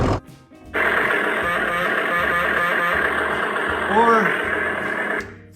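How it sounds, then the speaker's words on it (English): An Army of Darkness toy chainsaw by Syndicate Collectibles plays its electronic motor effect, a steady rhythmic rumble like an idling diesel engine that starts abruptly, runs for several seconds and cuts off. "it kind of sounds like a chainsaw"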